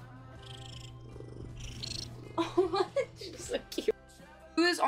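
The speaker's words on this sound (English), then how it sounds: "Look at the baby cat." A baby cat purring, a low steady rumble running under nearby talk and laughter through most of the short stretch.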